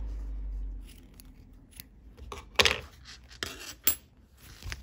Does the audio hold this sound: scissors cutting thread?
yes